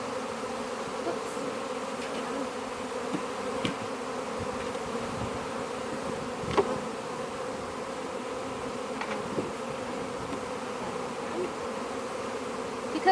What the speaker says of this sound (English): Because there's so many airborne bees,